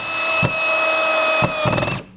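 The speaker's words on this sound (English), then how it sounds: "See how the hammer drill does." A Ryobi ONE+ HP hammer drill drives 3-inch drywall screws, its steady high motor whine running throughout, broken by a few short bursts of rattling clatter as the screw bites and cams out, close and loud.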